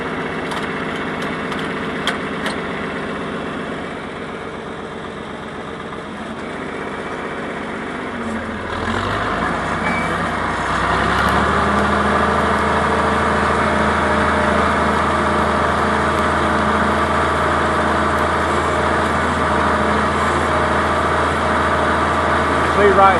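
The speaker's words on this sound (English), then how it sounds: "how the tractor is kind of waddling across these ripples in this field" A tractor engine runs steadily as it drives across a bumpy, rippled field while cutting weeds and leveling land, with a louder, deeper drone kicking in midway and continuing to the end.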